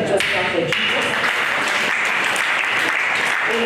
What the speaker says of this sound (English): Somebody just clap for Jesus.